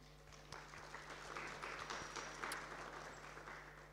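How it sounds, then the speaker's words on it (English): Faint applause from a conference audience greets a presenter at a Russia-Africa relations event, a soft, distant patter of clapping over a steady low electrical hum. "Can we give him a round of applause?"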